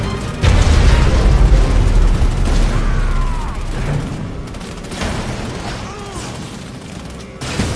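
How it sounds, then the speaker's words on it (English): A nuclear missile strike in C&C: Rivals hits with a loud, deep boom, then a long rumbling decay scattered with smaller blasts, crackles and mechanical clatter. "Nuclear missile launched."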